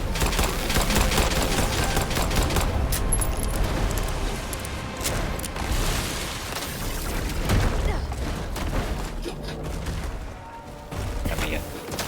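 Gunfire in the Nightingale video game crackles in dense, rapid bursts through a loud, chaotic battle, with voices talking underneath.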